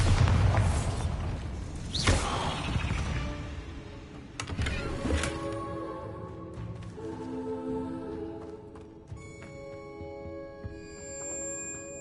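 Bombarda spell blasts in Hogwarts Legacy, heard as a loud booming explosion near the start, then a second burst a couple of seconds later, with rumbling debris and lingering magical tonal shimmer trailing off.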